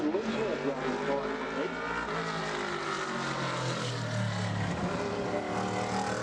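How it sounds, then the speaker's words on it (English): A Ford modified race car on a qualifying lap at Bowman Gray Stadium, its engine droning loud and continuous with pitch rising and falling as it circles the track, under an announcer's voice. "And now here comes another car out of the Myers camp"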